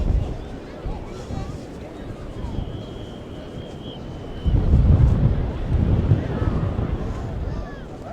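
Wind gusts and steady surf roll across Bakkhali beach in the Sundarbans as the tide comes in, with a louder, rougher surge of waves halfway through and faint crowd voices underneath.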